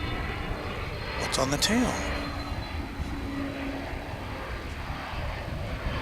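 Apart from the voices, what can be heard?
Frontier Airbus A320 landing at DFW airport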